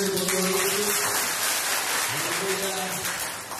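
A church congregation claps together at an Easter service in Lumajang, producing a steady, dense wash of hand claps mixed with a voice or music and fading slightly toward the end.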